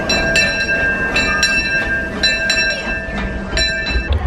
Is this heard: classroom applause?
no